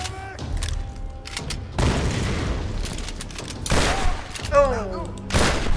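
Grenade blasts and gunfire in the Tomb Raider video game, several sharp bursts and booming thuds spread across a few seconds, loud and close, with someone talking excitedly between them.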